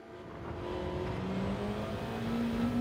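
Race car engine in Gran Turismo 7 just after an upshift to third, its note climbing steadily in pitch as it accelerates, loud and continuous with no voices.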